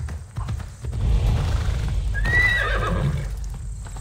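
A horse in Assassin's Creed Odyssey gives a clear, high neigh midway while its hooves clip-clop steadily underneath, close and moderately loud with no speech.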